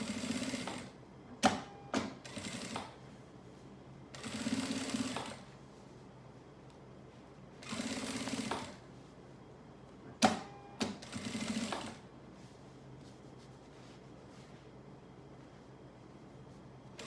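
A sewing machine stitches fabric slowly near a zipper, running in short bursts of one to two seconds separated by pauses, close and clear in a quiet room.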